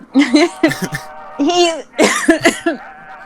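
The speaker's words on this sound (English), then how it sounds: "I coughed because water went down the wrong pipe" A person coughs after water goes down the wrong pipe, several harsh bursts in quick succession mixed with laughter-like breaths, close and fairly loud, with talk around it.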